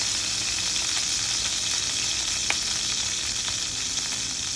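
Ribeye steak sizzles and fries steadily in a hot pot, a constant bright hiss with a few small pops, close and moderately loud, no talk.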